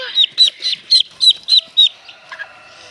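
A duckling peeps loudly in a rapid series of shrill, high cries, about eight in a row, fading toward the end.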